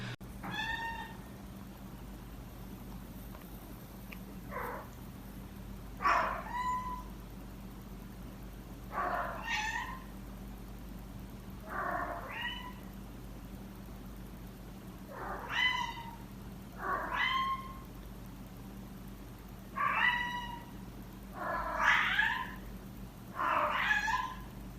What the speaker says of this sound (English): And in fact, he's a very vocal cat.